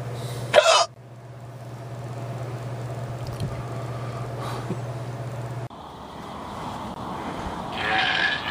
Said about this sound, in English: I got hiccups bad.